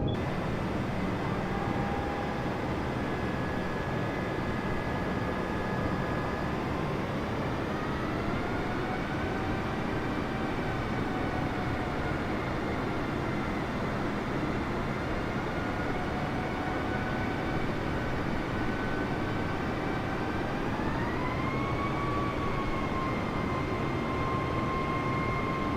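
Airbus A320 on final approach to landing in Microsoft Flight Simulator 2020, a steady loud engine roar and airflow drone running throughout, with thin tonal whines that shift in pitch as thrust changes, and no talk.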